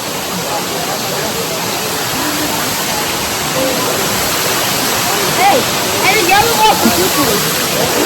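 A waterfall roars as a loud, continuous rushing hiss of falling water, steady throughout, with voices faintly talking beneath it near the end.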